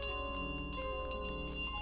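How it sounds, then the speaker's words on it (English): Bell ringing in Untitled Goose Game: bright metallic chimes with sustained ringing overtones and several quick struck accents, moderately quiet over a low steady hum. "Oh, the bell!"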